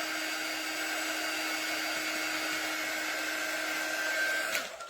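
Hair dryer blowing steadily on a craft piece for a heart garland, a continuous close whir with a faint tonal whine that cuts off abruptly near the end.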